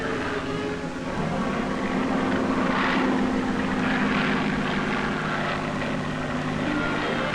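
A propeller plane flying low over the desert floor, its droning engine swelling as it passes overhead and holding steady and fairly loud throughout, with no voices.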